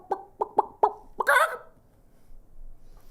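A person imitates a chicken with their voice: four or five short, clipped clucking bursts in a quick, uneven rhythm, then a louder, longer squawk. Quiet follows.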